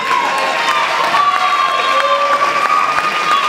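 An audience at a classic bodybuilding contest claps and cheers steadily, a dense crowd roar with whistles and shouts holding at a fairly loud level throughout.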